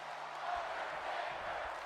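A wrestling video game crowd cheers for the Undertaker, a steady roar of many voices sustained throughout.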